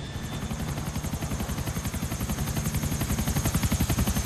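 A helicopter in the video game GTA IV gives a steady, loud rotor chop, its rapid rhythmic thumps growing slightly stronger throughout, with no talk over it.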